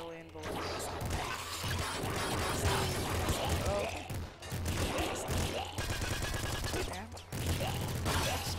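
Rapid, dense video game gunfire from a weapon with huge ammo, sustained bursts and crashes filling the clip loudly, with a voice talking over parts of it.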